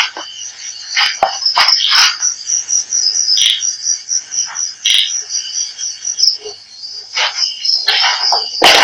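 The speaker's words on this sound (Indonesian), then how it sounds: "Kok ada kodok tiba-tiba di sampingnya?" Frogs croak at night in a loud, close chorus of repeated pulsing calls over a constant high chirping of crickets, with irregular bursts throughout.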